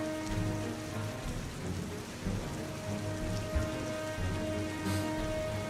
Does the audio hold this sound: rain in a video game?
yes